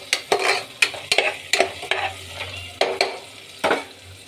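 Pulihora ingredients browning in a pan sizzle under a series of rhythmic spatula strokes, about eight sharp scrapes and knocks close up over a constant frying hiss.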